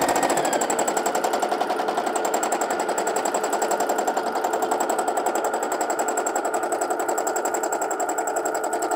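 A sewing machine stitches a fabric test piece, a loud, fast, even mechanical rattle that holds steady from start to finish.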